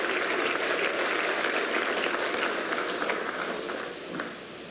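A crowd applauding steadily in Venezuela's National Assembly chamber, a dense wash of clapping that holds level, then eases slightly near the end; no speech over it.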